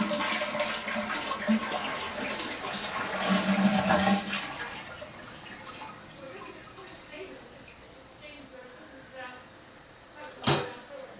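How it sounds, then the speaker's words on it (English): A household toilet flushes with the lever held down to drain the tank, a rushing gurgle swelling for about four seconds then fading into trickling refill water, ending with a sharp clunk. "we'll flush the toilet and hold the lever down"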